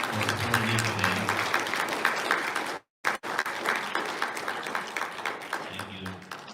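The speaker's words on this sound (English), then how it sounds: "everybody, please give a big hand of applause for them for supporting me for them" Audience applause at a fundraising event in a hotel ballroom, loud sustained clapping filling the room with a brief break midway before it resumes, steady and dense throughout.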